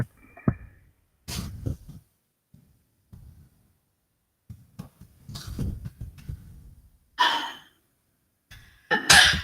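A woman sneezes indoors at home, sharp bursts near the end following scattered rustling and breathy noises, close and loud.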